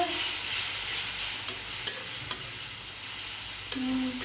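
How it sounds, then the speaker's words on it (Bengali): Ginger-garlic paste and ground spices stir-fried in a pan for a prawn curry, with a steady close sizzle and a few light spoon scrapes and clinks across the pan and no talking. "অল্প আদা রসুন বাটা এভাবে সব মশলাগুলো কষে"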